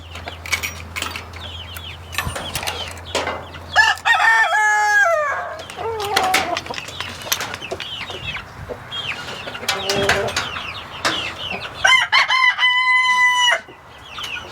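Chickens cluck continuously nearby in a coop while roosters crow loudly several times, with long drawn-out calls rising above the busy flock chatter.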